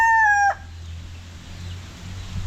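A rooster at a backyard poultry farm with straight-comb and pea-comb birds gives a loud, near crow that cuts off within half a second, leaving quiet farm ambience with a low rumble.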